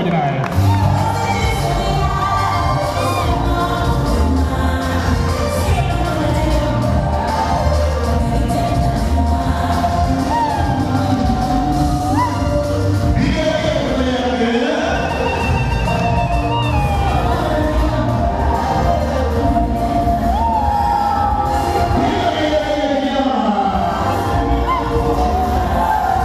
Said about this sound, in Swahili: Makofi mengi na vigelegele yanapokuja.